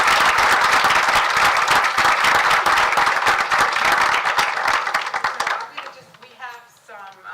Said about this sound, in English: if you would all please give a round of applause to everybody.